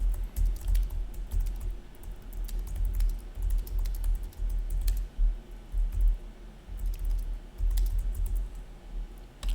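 Typing on a computer keyboard while building a course page: steady, close tapping in uneven bursts with short pauses, quiet and alone.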